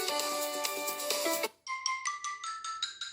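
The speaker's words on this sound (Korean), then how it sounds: "벨소리 바꾸실 때는 여기에서" A smartphone ringtone preview plays a dense, bright melody for about a second and a half, then cuts to a different tone of regular, evenly spaced chime pulses, all at moderate volume with no one talking.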